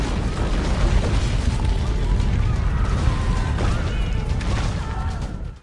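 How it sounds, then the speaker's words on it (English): The 1755 Lisbon earthquake in Assassin's Creed Rogue, heard as a steady, heavy rumble of crashing and collapsing debris. Booms and bursts sit inside it, loud and sustained throughout. "The 1755 Lisbon Earthquake, Assassin's Creed Rogue."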